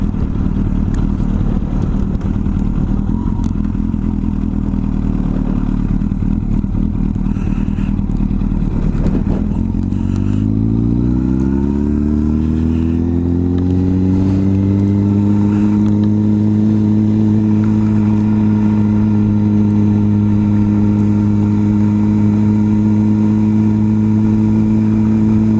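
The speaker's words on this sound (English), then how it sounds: "We got a motorcycle guy coming up real fast here." A motorcycle comes up fast, its engine a rough, clattering rumble that swells into a loud, steady, rising whine as it nears and revs, continuous and close with no talking.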